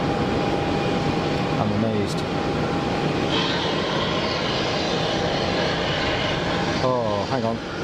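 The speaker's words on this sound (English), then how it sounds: "That looks like a Gulfstream." A Gulfstream jet at Geneva Airport produces a loud, steady broadband roar that holds throughout, with a thin whine on top and brief tonal chirps near the start and end.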